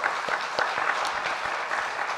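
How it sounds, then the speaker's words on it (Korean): A church congregation claps steadily through a Wednesday worship service, blessing its intercessory prayer team with a dense, even round of applause that is fairly loud and continuous. "우리 중보기도팀을 위해서 한번 축복의 박수 하겠습니다."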